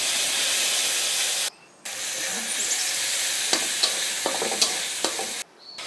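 Onion, garlic, turmeric and five-spice sizzling in a pan while a spatula stirs and scrapes, a continuous close frying hiss broken by two short pauses and scattered metallic clicks.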